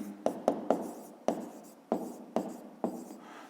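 Pen or chalk writing out a fifth-grade maths exercise solution, heard as a series of close, crisp taps and strokes in uneven bursts, about seven distinct strokes over a few seconds, with no voices.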